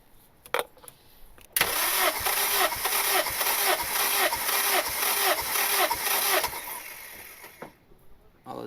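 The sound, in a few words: turbo Honda Civic R18 engine cranking during compression test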